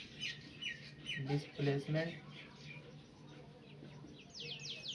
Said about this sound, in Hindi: सुबह का समय है इसलिए थोड़ा चिड़िया चिहार है